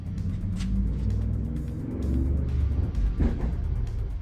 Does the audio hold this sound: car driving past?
yes